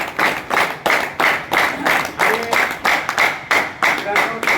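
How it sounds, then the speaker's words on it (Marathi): A group claps together in steady, rhythmic bursts for about four and a half seconds at a Guru Purnima gathering of a badminton group, fairly loud and close, with a little voice underneath. "त्यांच्यासाठी आपण टाळ्या वाजवल्याच पाहिजे"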